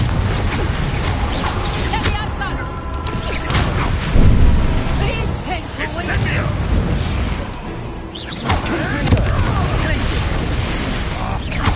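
A Confringo fire spell bursts in Hogwarts Legacy, loud booming blasts and crashes among dense game effects and music, with a voice shouting the incantation.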